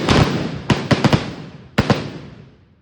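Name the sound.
firecracker offering (vedi vazhipadu) at Kodungallur temple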